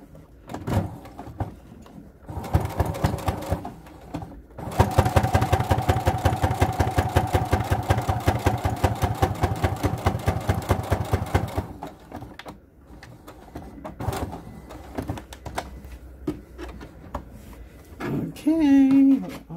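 A sewing machine top stitching a fabric mini wallet, running in fast, even stitch bursts, the longest lasting several seconds, with pauses and a voice talking between runs.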